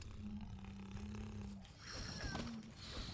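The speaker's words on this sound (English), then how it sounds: "Snore." A monster snoring in Monster Hunter World, a low droning rumble with a steady hum that breaks off midway, then a rougher, noisier breathing stretch returns, fairly faint and with no one talking.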